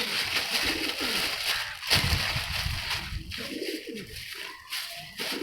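Pigeons coo repeatedly close by in soft, throaty rolls, with some rustling and water sloshing in the background.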